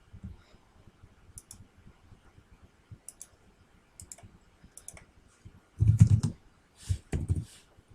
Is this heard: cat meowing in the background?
no